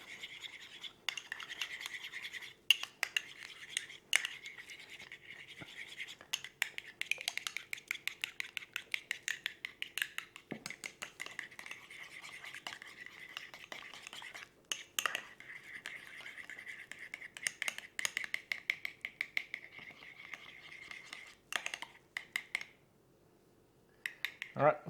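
A spoon stirring and scraping sauce in a small bowl for smash cheeseburgers, quick repeated close clinks and rubbing scrapes in busy bursts with brief pauses, fairly quiet.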